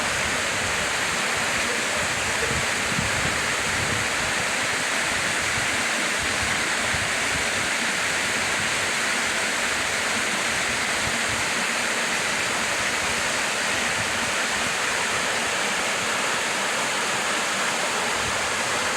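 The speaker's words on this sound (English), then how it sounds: "It's amazing to look right at the water level, watching it spill over." Steady, full rushing roar of water pouring over a drop, continuous and close, with no voices over it.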